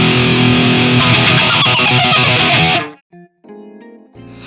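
Electric guitar played through a VOX Valvenergy Cutting Edge high-gain tube distortion preamp: a dense, loud, tight distorted chord ringing for about three seconds, cut off abruptly, followed by a few short choppy stabs.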